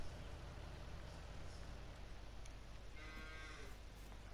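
A single cow from Farming Simulator 19 moos briefly near the end, a short mid-distance low call rising out of a thick, constant rumble of farm-map background noise.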